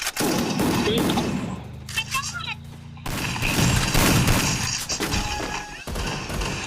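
Bursts of gunfire in the mobile shooter Free Fire, a father and son match, with dense rapid shots in the opening seconds, a short lull, then more heavy firing and impacts. Voices can be heard under the shooting.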